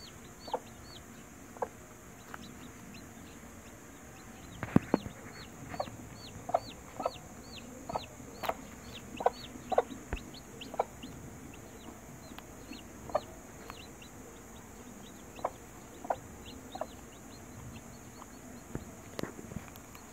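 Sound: hen and chicks clucking

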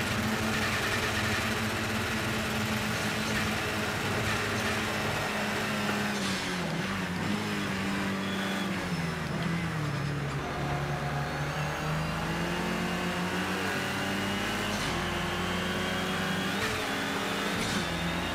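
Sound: GT4 race car engine at limit, Project CARS 2 video game

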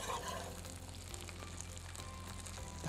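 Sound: flour and butter roux stirred and sizzling in a pan

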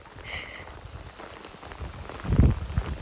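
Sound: hail falling hard on a fisherman outdoors

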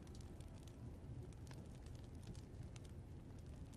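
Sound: campfire crackling in The Walking Dead video game

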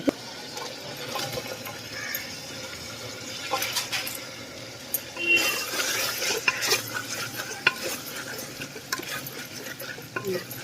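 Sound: stirring spices with a little water in a pan

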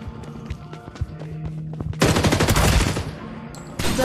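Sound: gunfire from a video game

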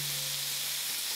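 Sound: meat frying in a pan on medium-low heat

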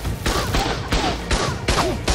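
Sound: gunfire in the video game ARK Survival Evolved

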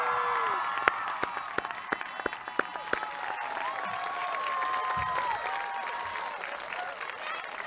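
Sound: audience applause

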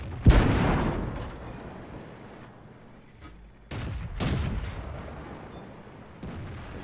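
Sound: tank gun shots in World of Tanks video game

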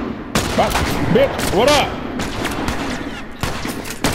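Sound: rifle gunshots in the video game The Last of Us

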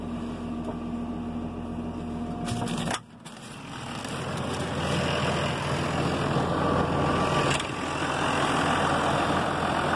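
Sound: Renault Ares 656 RZ tractor engine idling

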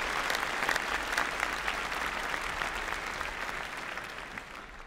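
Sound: audience applause for graduates

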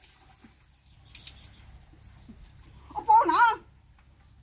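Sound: water running while bathing a child

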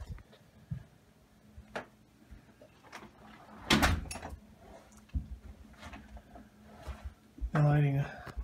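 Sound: back side door of a house opening

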